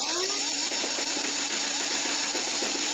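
A steady, high-pitched motor whir runs throughout with rapid mechanical clicking as a Nerf Elite Titan CS-50 motorized foam dart blaster, modded to 11.1 volts, fires continuously at close range.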